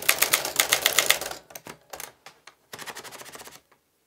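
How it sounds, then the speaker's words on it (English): Rapid keystrokes clatter on a Smith Corona Silent-Super manual typewriter, a dense run of sharp clicks followed by a few separate strikes and another quick burst, close and clear with no voices. "And then you can type again."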